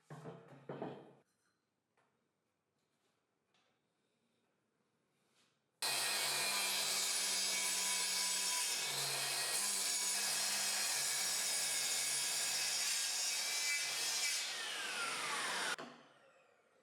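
A miter saw on a DIY miter saw station cuts through wood, a loud sustained whine starting suddenly after brief quiet handling noise, holding for about ten seconds before spinning down.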